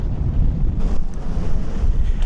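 Strong, gusty wind buffets the microphone in a continuous roar, with no voices, on the seafront at Skegness.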